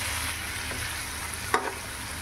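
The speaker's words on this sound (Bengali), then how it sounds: "এবার এটা খুব ভালো করে ভেজে নেব মশলা দিয়ে।" Cauliflower curry with spices frying in a pan gives a steady, close sizzle throughout, with one brief clatter of stirring near the end.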